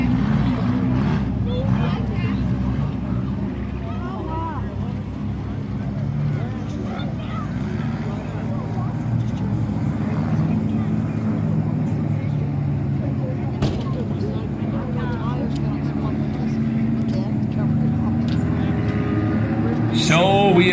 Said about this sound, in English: we are down to 8 cars left in the King of the Dirt finale here at Valley Raceway for the 4 cylinders